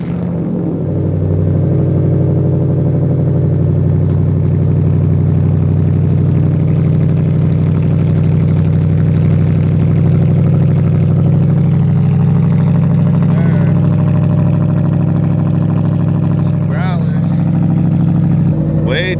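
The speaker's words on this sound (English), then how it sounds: "let you guys hear the new exhaust" Deep, steady engine rumble of a 2004 Lexus GS idling close by with a new exhaust, a low throaty exhaust drone that holds constant throughout, with a voice briefly audible.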